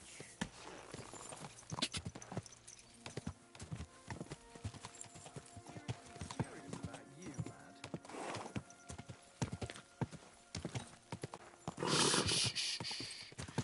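Horse hooves clip-clop steadily in the medieval video game Kingdom Come Deliverance 2, a quick rhythmic trot of hoof strikes up close, with a brief louder burst of noise near the end.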